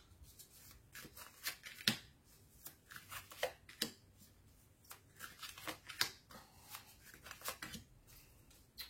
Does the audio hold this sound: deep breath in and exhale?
no